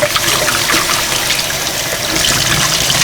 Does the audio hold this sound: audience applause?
no